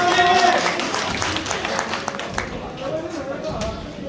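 Crowd applause at an amateur boxing tournament final in a gym, a dense wash of clapping filling the space from start to finish with voices murmuring underneath, fading slightly toward the end.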